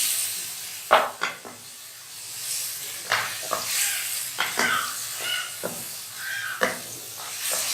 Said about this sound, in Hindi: अब हमने इन तमाम मसालों के साथ अच्छा से चिकन को फ्राई करना है।